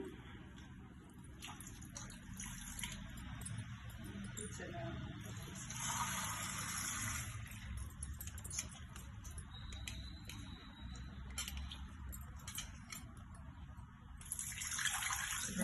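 Tap water running and splashing while dried chilies are washed in a kitchen sink, a steady near gush with faint clattering, and a voice speaking over it in parts.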